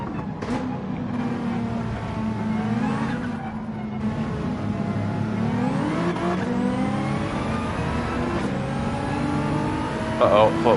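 A Porsche race car engine in a racing game revs and shifts steadily, a strained, rising and falling drone with gear changes, running throughout under a talking voice.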